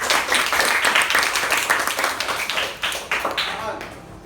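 A classroom of students clapping together in a steady, dense patter that tapers toward the end, with some talk mixed in.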